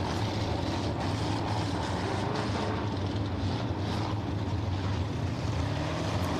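A loud, steady race car engine roar at a speedway fills the whole stretch, broad and droning with a slightly uneven, rough texture from a car running unhealthily, and no talking.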